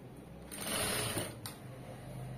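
A sewing machine stitches fabric piping with number 12 thread, giving a soft, steady mechanical whir that swells in the middle of the run, heard close but quiet.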